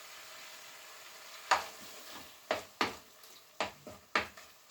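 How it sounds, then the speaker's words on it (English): Beef pieces sizzling in hot butter in a pot, a steady low fry with several sharp clanks and stirring scrapes of a utensil against the metal at irregular intervals. "So I'm going to fire this up here hot. Coat them with that buttery goodness."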